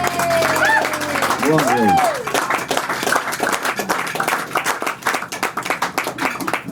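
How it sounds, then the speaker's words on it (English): A small audience at a live show at Feeding Tube Records in Northampton, Massachusetts breaks into applause of dense, steady clapping that runs several seconds after a brief spoken word and some whistle-like tones. "Give yourself a round of applause"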